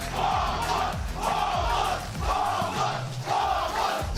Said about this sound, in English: the Mongols have got their fans screaming their name right now